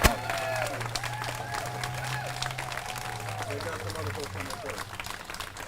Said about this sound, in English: Let's give him a rousing round of applause